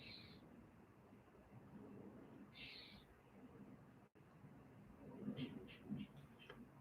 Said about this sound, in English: there's a very chatty bird outside